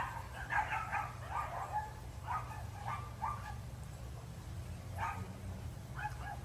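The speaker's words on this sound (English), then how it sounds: "neighbors' dogs are happy, letting all the neighbors who walk by know that they're out there." Neighbors' dogs bark in scattered bursts at a distance across a garden, the barks fairly faint over a constant low outdoor hum.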